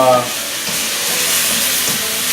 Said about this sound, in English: I'm browning off this meat